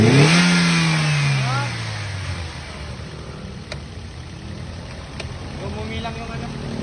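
A Toyota Vios engine with a rough, misfiring idle starts with a loud rev that falls away, then settles into a steady, lower idle rumble with a couple of faint clicks.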